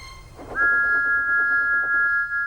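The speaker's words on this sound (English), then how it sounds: "Thomas's whistle soon woke them up." A single loud, steady steam locomotive whistle sounds close by and holds for about two seconds.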